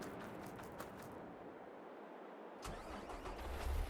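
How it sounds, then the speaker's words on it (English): A truck engine in Farming Simulator 22 cranks and catches, a steady engine rumble that drops out briefly then returns louder and rises as it settles into running, close and with no talking. "Grab one of the other trucks."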